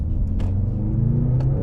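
A Mercedes-AMG GLC 63 S E Performance, set to race mode, idles close by with a steady, deep engine rumble and a slight rise in pitch. No one speaks.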